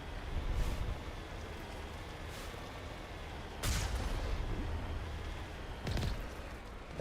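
Gunfire in Mass Effect Legendary Edition heard faintly under a steady rumbling vehicle drone, with a few sharp distant shots or blasts at scattered moments and no speech.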